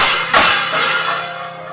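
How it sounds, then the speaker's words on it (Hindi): A metal thali plate is slammed against a wall, producing one sharp, loud clang followed by a lingering metallic ring that slowly fades, with no other sounds. "थोड़ी देर बाद वो थाली दीवार पर पटकने की आवाज आई।"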